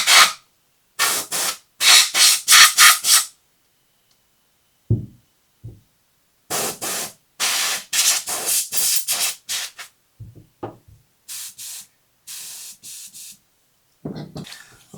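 Bursts of compressed air dust off the D-ring of a night vision device, a DIY RVM-14 build. Several close, loud hissing blasts arrive in clusters with short gaps, mixed with a few soft knocks and handling sounds.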